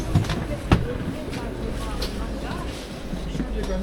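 Riding aboard an old-fashioned passenger train gives a continuous low rumble with a couple of sharp knocks near the start, while people talk throughout.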